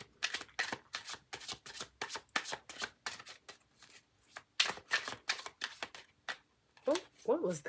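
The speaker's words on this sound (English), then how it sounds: "Let me do a little shuffle here to clarify." A deck of tarot cards is shuffled in a steady run of crisp, close riffles and flicks, each burst briefly separated, with a voice speaking near the end.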